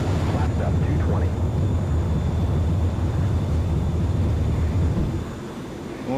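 F-14A Tomcat jet taking off in a flight simulator, a loud, steady engine roar that fades toward the end.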